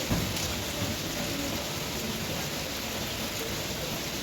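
Steady heavy rainfall outdoors, a dense continuous hiss of drops hitting surfaces, uniform and enveloping with no voices.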